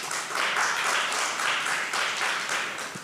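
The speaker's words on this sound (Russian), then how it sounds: "я надеюсь, вы хлопаете Достоевскому" An audience at a literary club event applauding, a dense, steady roar of many hands clapping, close and loud throughout, swelling slightly and easing off at the very end.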